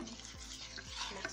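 Garam masala, coriander powder and salt being stirred into a pan for raw banana kofta curry: a low scraping stir over a steady sizzle, with a couple of distinct spoon strokes, alone and close.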